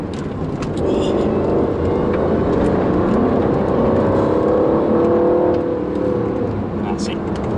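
A 2018 Aston Martin Vantage accelerating hard on a race track: loud sustained engine drone from inside the car, rising in pitch through the middle before easing off, with a driver talking over it.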